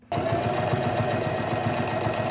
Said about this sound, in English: then we're just gonna sew it on the top again